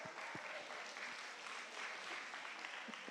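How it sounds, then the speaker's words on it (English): Audience applause fills the room at the end of a mindfulness exercise, a dense, steady clapping from many hands that holds at an even level for about three seconds with no voices over it. "give yourselves a round of applause"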